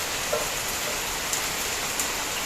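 Heavy rain pours down in Bangalore in a dense, steady hiss, close and continuous, with no one speaking.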